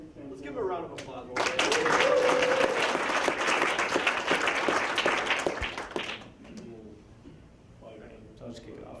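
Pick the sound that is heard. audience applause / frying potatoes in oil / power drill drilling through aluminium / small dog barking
audience applause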